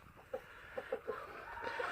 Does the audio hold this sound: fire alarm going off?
no